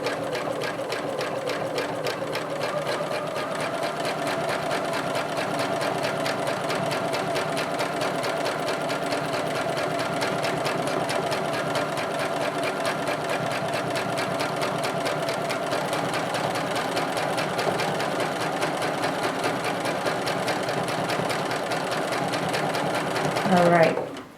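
A sewing machine stitches quilting lines with a steady, fast mechanical rattle that runs continuously and close up, rising slightly just before it stops.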